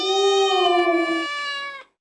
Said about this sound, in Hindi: ये तो बिल्ली की आवाज है।